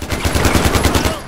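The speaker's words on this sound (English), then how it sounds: "These burst fires are great." Rapid burst-fire gunshots from the video game Far Cry 4, a steady run of about a dozen evenly spaced, loud, close cracks with a low thump under each.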